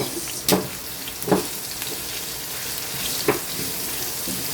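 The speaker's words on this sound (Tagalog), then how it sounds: "Gisa-gisa lang po. Hanggang sa maamoy mo yung aroma ng bawang at sibuyas." Garlic and onion sautéing in oil for pansit bihon make a steady low sizzle, with three brief utensil scrapes or clinks spaced out across the few seconds and no talking.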